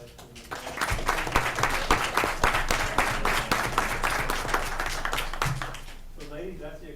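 Audience applause at a regular school board meeting as principals, including those from Southwest High School, stand to be recognized: steady, dense clapping for several seconds with voices mixed in, then tapering off.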